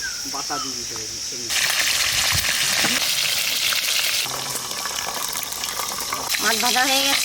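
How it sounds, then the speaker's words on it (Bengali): Fish, snakehead from a beel, frying in a pan of hot oil, a steady loud sizzle with stirring scrapes, while a person talks over the opening moments. "মাছ ভাজা হয়ে গেছে, ছেড়ে নেবো।"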